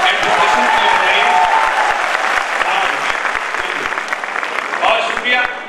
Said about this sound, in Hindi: एक बार जोरदार ताली हमारे एडमिनिस्ट्रेशन के लिए बजाइए